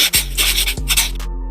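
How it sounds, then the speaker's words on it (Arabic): Writing sound effect of a pen scratching across paper, several short rubbing strokes in an uneven rhythm over a steady low hum, close and moderately quiet, with no talking. "كتابي"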